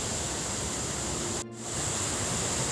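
Waterfall beside a mountain trail at dusk, a steady broadband rush of falling water that fills the scene evenly, briefly dipping in the middle.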